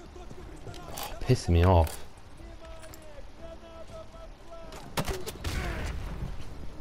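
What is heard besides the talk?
gunfire from a video game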